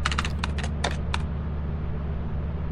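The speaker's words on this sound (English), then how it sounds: "Type in Sigurd." Fast clicking keystrokes on a keyboard in the video game Lethal Company, about eight quick taps in a burst, then stopping, over a steady low mechanical hum.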